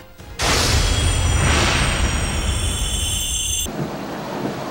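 Heavy rain pours in a steady roar, with a deep rumble of thunder rolling underneath, loud and close, with no talking.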